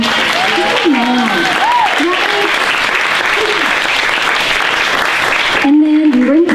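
Room full of people applauding at a live song-and-talk show, a sustained dense clapping wash with a voice talking over it for most of the stretch and coming through more clearly at the end.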